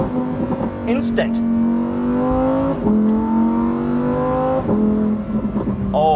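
A Lamborghini Huracan STO V10 pulls hard through its gears via fixed paddle shifters, the rising engine wail cut by a few crisp shift breaks, heard close and loud with someone talking over it.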